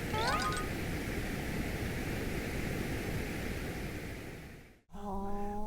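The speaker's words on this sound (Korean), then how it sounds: "마지막으로 브라운 노이즈라는 게 있는데 브라운 노이즈는 고주파," Brown noise with the high end removed gives a deep, steady rushing hiss that fades out near the end, breaks off briefly, then returns with faint tonal sounds over it.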